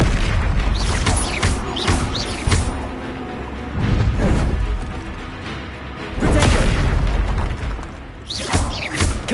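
Confringo fire-blast spells cast in a Harry Potter game, heavy booming blasts and crashing impacts arriving in loud waves with whooshes between them, with no speech.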